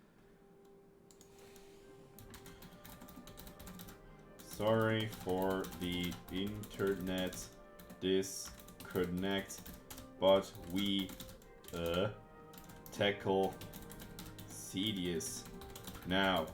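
Computer keyboard typing in a home streaming setup, irregular bursts of keystrokes heard close and fairly clear, running under and between a man's speech.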